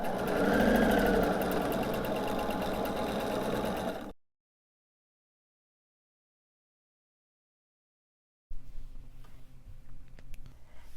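A sewing machine stitching half-square triangle pieces of quilt fabric for a sew-along, running steadily and close for about four seconds, then cutting to silence before faint room noise returns.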